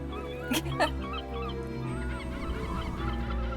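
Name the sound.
seagull calls in an animated pilot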